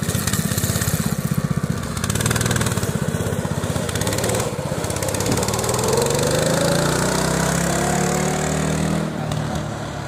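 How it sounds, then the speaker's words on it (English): A freshly repaired mini bike's small engine runs steadily and loudly outdoors, buzzing and revving with a pulsing putter that shifts in pitch as the rider moves off. "we got Cody on the mini bike"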